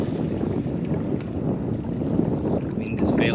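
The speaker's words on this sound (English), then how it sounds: "The wind is fairly pushing me today too" Steady wind buffeting a microphone on a kayak while fishing for tailor on the Peel estuary, a continuous loud rushing roar that holds for the whole stretch with no voices.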